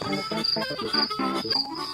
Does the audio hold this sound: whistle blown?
no